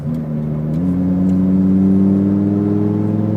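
Lamborghini STO accelerating on a race track: a loud, steady engine drone heard from the cabin, rising slightly in pitch as speed builds, with no talking.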